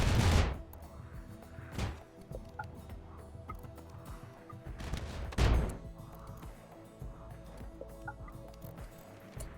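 Turret gunfire in the video game RimWorld: a few loud, broadband volleys burst out, spaced a couple of seconds apart, over a steady hum of game sound.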